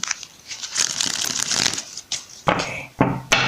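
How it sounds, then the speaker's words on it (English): A deck of tarot cards is shuffled by hand close up, a run of rapid riffling flutters followed by a few sharp separate snaps and slaps. "one more shuffle"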